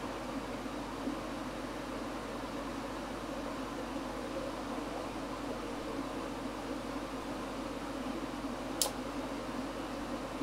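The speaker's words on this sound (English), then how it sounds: "Is the aircon okay? Is it too loud?" Steady air conditioning unit running indoors, a constant broadband hum and hiss with no breaks, plus one faint brief tick near the end.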